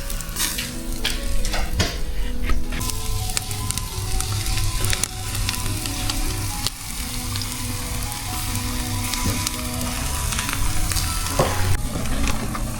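Fish frying and being stirred in a pan, a steady close sizzle with scraping stirs and clinks throughout, and no talk.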